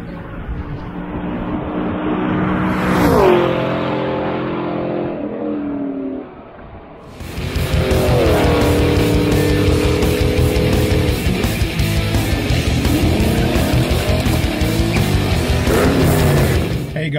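A 2016 Camaro SS running with a shot of nitrous accelerates hard, its loud engine rising in pitch, dropping back briefly around six seconds, then roaring up again at full throttle through repeated gear-driven climbs.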